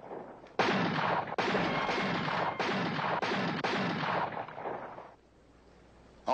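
Gunfire from several guns in a western shootout: loud, echoing shots follow one another about a second apart for roughly five seconds, then the firing drops away to near quiet.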